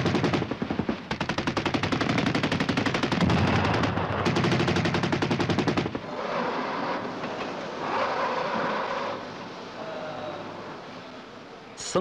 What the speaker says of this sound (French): une seule rafale de 20 mm lance contre son objectif 5 kg de munitions